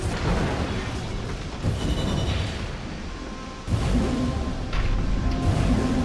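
Heavy cannon fire from a mech in Armored Core 6 booms out in several deep blasts with rushing whooshes, spaced over a dense game soundscape, loud and close with no speech.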